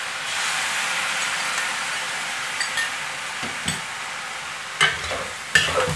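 Fish maw being stir-fried dry over high heat in a pan, a steady loud sizzle and hiss with occasional scraping stirs and clinks of the utensil, no voices.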